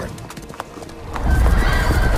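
A horse trots with rhythmic clip-clopping hooves, then lets out a loud, close neigh that swells and holds, in a Witcher 3 parody setting.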